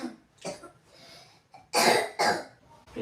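A child coughs indoors, a few small throaty coughs followed by two loud, harsh bursts close to the microphone, with no speech.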